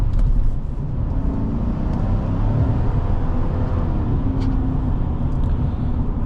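A 2025 Chevy Silverado 1500 LT pickup rolls over potholes on a rough road in Montreal, heard as a constant, heavy low rumble of road and cabin noise with no distinct impacts standing out.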